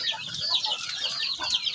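Rhode Island cross and native chickens clucking and chattering continuously, a busy flock close by with overlapping calls.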